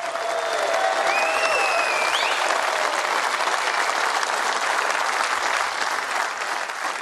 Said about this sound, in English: may we have another round of applause for two of the all-time greats.